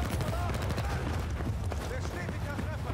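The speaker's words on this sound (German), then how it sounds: "Schießen ja hier auf Schiff" Gunfire aimed at a ship in the Battlefield 4 video game, a steady barrage of rapid shots and impacts, loud and near throughout, with a voice heard over it.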